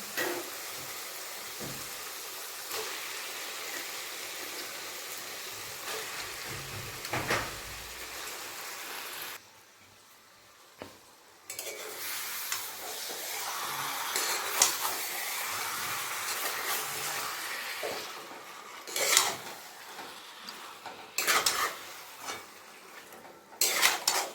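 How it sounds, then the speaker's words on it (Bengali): Washed chicken goes into a pan of cooked spiced masala for a country chicken curry, with clattering utensils against the pan, scraping stirs and a soft sizzle, a brief quiet gap, then more clinks and scrapes. "এরপর ধুয়ে রাখা চিকেন দিয়ে দেবো"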